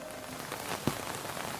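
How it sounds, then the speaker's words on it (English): Rain sound effect in a children's ABC cartoon, a steady patter of drops on a surface with one brief louder splash partway through, no voices. "R for rain"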